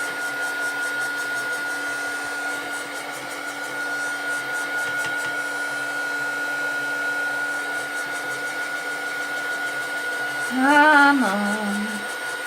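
A heat gun drying glue blows with a steady, whirring hiss throughout, and its pitch shifts briefly near the end as a short spoken remark is heard.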